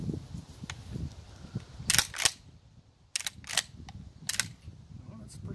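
The action of a Dickinson Arms Tac-4 shotgun is cycled by hand, producing several sharp, close metallic clacks in quick pairs over a quiet room background.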